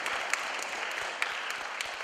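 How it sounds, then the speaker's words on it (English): Applause from a show audience, a steady fairly faint patter of many hands with a few sharper claps standing out, heard alone. "Give him a big clap."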